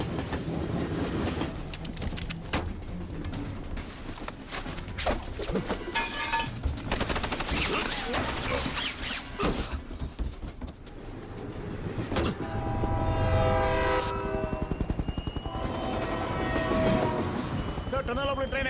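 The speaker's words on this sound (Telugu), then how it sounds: "సార్ టనల్ లోపల ట్రైన్ ఎంటర్ అయింది" In a movie climax, a train rolling into a tunnel makes a heavy rumbling clatter with rhythmic wheel clacks, loud and continuous, under people talking.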